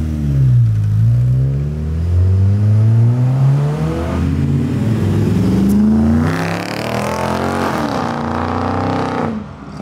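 An abandoned Honda Civic engine revs hard through rising and falling pitches, then accelerates away, loud and close before fading slightly at the end.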